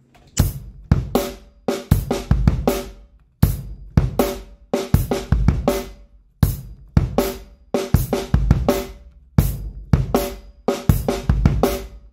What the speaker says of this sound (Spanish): Paso número 2. Es incorporar el hi-hat al ritmo.